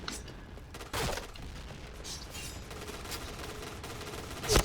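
Famas G2 rifle fire in the shooter game Point Blank: scattered sharp gunshots and short bursts ring out over a busy, noisy background, one louder crack near the end.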